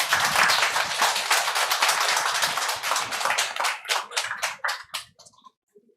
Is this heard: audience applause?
yes